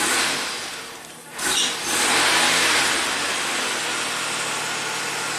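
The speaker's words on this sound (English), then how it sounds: "If I bump the throttle" A 1985 Oldsmobile engine, diagnosed for low power, rises briefly in a quick rev as the throttle is bumped, then settles back to a steady close idle with no talking.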